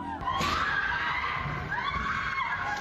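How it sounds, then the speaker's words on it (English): People scream in the streets of Tehran, with sustained, wavering high-pitched cries that carry loudly and echo over a noisy outdoor background. "Screams echo across the ordinary streets of Tehran."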